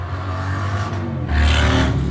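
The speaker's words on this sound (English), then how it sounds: "Stupid motorbikes." Motorbikes pass outside, a steady low engine drone that swells louder partway through as one draws nearer, with no talk over it.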